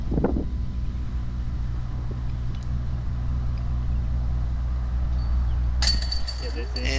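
Wind gusting across an outdoor disc golf course makes a steady low rumble and buffeting on the microphone throughout, with a brief clink near the start and a brighter hiss near the end.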